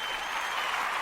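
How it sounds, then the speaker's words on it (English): An audience on a talk show gives a steady round of applause, a fairly faint, even wash of clapping with no voices over it. "Round of applause."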